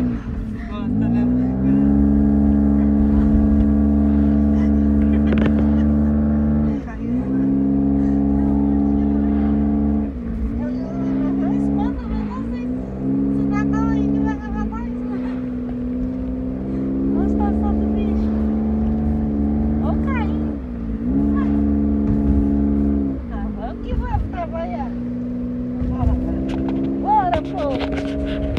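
Car engine heard from inside a vehicle on a road in Japan: a loud, close, steady drone whose pitch climbs and then drops again at each of several gear changes, with faint voices now and then.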